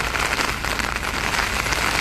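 Heavy rain pours down steadily in a dense, loud, unbroken hiss of drops striking surfaces, with a gusty wind, and no voices.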